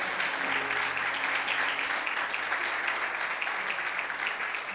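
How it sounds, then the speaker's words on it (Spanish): Continuous, even applause from a church congregation honoring its pastors rolls on at a moderate, slightly distant level, a broad wash of many hands without breaks and with faint voices underneath. "Así que ¿por qué no le dan un aplauso al pastor Dani, a la pastora Margarita?"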